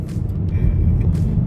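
A 2024 Nissan Sentra SR with a CVT pulls away from a stop, its engine giving a steady, low droning rumble that holds fairly loud and even throughout.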